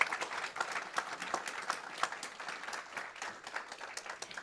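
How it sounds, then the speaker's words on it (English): Applause from an audience at an evening awards or recognition gathering, a fairly faint, steady patter of many hands clapping for several seconds with no one speaking. "Let's give Rose a big round of applause."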